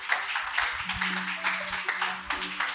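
A church congregation at a Wednesday family service claps steadily, a continuous muffled wash of applause with a low hum underneath.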